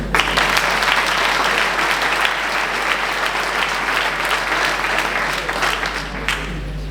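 At a town New Year's greetings ceremony, an audience gives sustained, even applause that fills the room at steady volume throughout, over a low constant hum.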